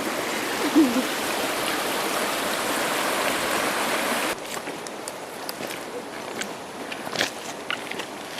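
Stream water rushing over stones on a hot day in Savusavu, Fiji, a steady broad wash that drops to a quieter, thinner trickle partway through, with faint splashes on top.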